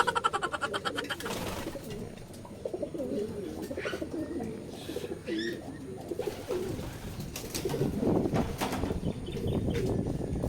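Pigeons coo repeatedly in a loft nearby, soft throaty calls overlapping with occasional chirps and a faint flutter of wings.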